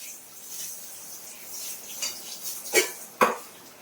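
Spices for a hilsa curry, including dried and green chillies and panch phoron, are stirred and sautéed in a pan: soft scraping, then two sharp metallic knocks of a spoon against the pan near the end.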